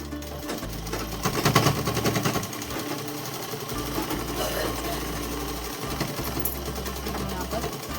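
A sewing machine runs in rapid, rattling bursts as it stitches a shalwar, close and fairly loud, with a voice talking over parts of it.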